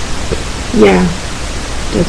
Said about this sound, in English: for those of you that hear pink noise, you may actually be able to hear it